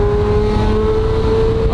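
Ferrari F12 with a twin-turbo V12 idles and revs steadily inside a shop, a loud, close, continuous engine drone with a constant low hum throughout.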